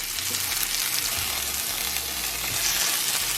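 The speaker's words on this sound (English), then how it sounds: "we're going to let this sear for about 3 to 4 minutes" Boneless, skinless chicken sears in a hot pan, a steady loud sizzle and crackle of frying with no talk.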